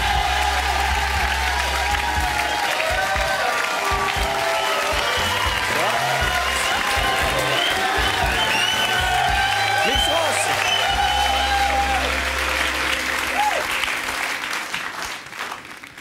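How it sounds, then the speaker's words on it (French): An audience at the Miss France 2011 pageant applauds loudly and continuously, with cheering and whoops rising over the clapping while music plays underneath. "Merci de l'applaudir."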